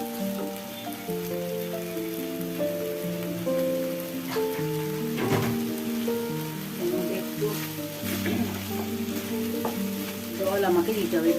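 Sugar stirred into taro and chana dal curry frying in a pan, a continuous soft sizzle with occasional scraping stirs, while steady background music plays over it.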